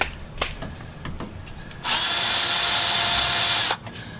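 A power drill backs out Torx T15 screws from fender flares on a RAM 3500 truck, one loud whining burst lasting nearly two seconds, with faint handling clicks before and after.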